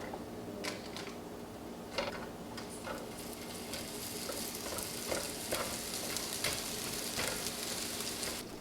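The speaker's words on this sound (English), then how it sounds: "put it into the pan to start frying them" Vegetables sizzle and crackle steadily in a hot pan for a vegetarian meal, with a few clicks and scrapes from stirring scattered through; no one speaks.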